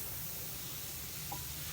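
Chicken frying with garlic-ginger paste for haleem gives a faint, steady sizzle with light stirring, even and close, with no talk.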